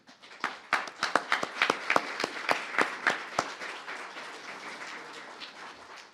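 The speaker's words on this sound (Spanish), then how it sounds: "un aplauso al Poder Judicial Federal y al IFECOM" Applause from an audience at a forum on the federal judiciary starts with sharp, distinct claps that quickly build, then thin into softer scattered clapping fading toward the end.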